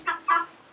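Laying hens cluck in two short, close bursts, each a quick rising cackle, followed by a quieter pause with faint background.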